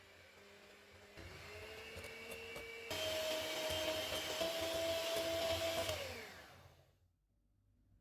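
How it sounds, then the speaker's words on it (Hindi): An electric mixer whips cream with powdered sugar, a steady whirring hum that steps up in pitch twice, holds loud for several seconds, then winds down and stops near the end. "थोड़ी थोड़ी शुगर को क्रीम में डाल के व्हिप करेंगे।"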